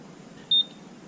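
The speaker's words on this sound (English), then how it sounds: "the centigrade Fahrenheit button and the timer button, if you press those two together and hold them down" A single short electronic beep sounds from a button press on an OB Genius 2 device, a clean tone standing out over faint background hiss.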